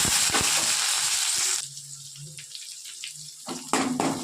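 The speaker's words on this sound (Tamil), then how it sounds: "வெங்காயம் தாளிச்சுக்கோங்க." Onions hit hot sesame oil with popped mustard seeds in a kadai for Tamil garlic kulambu. They give a loud, hissing sizzle that drops to a softer crackle after a moment, then briefly flares up again.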